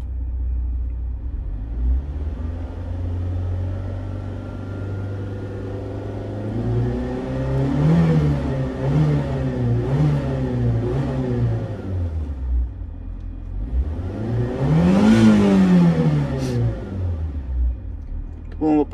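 A Fiat Panda 4x4 engine idles and is revved twice, each blip rising and falling loudly over a rumbling idle, close up, with someone talking over it.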